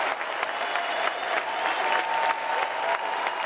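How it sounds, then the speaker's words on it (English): A conference hall audience applauds after a political speech, dense sustained clapping from a large crowd filling the space, steady and loud throughout. "the conference hall is on its feet. They're cheering out here, just behind us"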